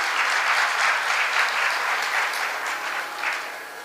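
Audience applause at a Hindu religious discourse on the Bhaktamal katha, a dense, steady wash of many hands clapping that carries on throughout and eases slightly toward the end, with no talk over it.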